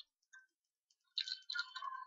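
A few quiet, close clicks of computer keyboard keys come as a name is typed: a couple of isolated taps, then a quicker burst of keystrokes near the end, with no talking.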